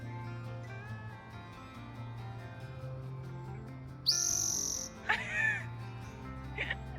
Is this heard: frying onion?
no